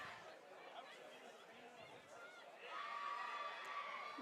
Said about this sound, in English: Big cheer there for the Victorians